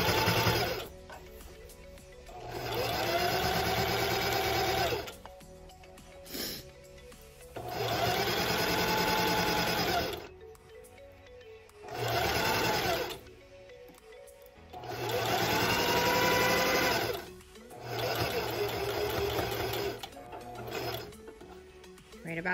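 A sewing machine stitches the facing seam of an apron, running in several sustained bursts of a few seconds each with short pauses between, close and fairly loud with a steady whirring hum.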